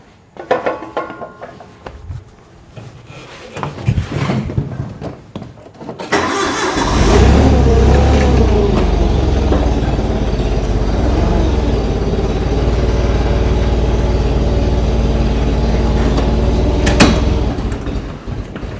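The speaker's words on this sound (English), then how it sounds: "Now when the forklift's cold, she runs a bit rough, but after it warms up, it's fine." A cold forklift engine starts and settles into a loud, rough-running idle, with a heavy low rumble that continues steadily after a quieter stretch of handling noise.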